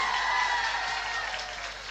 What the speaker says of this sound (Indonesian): banyak tepuk tangan untuk ibu-ibu yang hadir